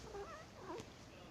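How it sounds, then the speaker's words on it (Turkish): A one-year-old female house cat gives a few soft, short meows indoors, faint and close against a quiet room hiss. "Çok güzel bir kedi."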